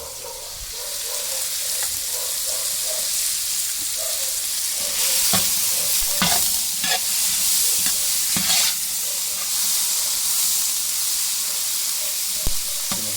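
Lugaw with plenty of ginger stirred and cooking in a huge pot meant for hundreds, steady close sizzling and bubbling with repeated scraping strokes of a paddle against the metal, no talk.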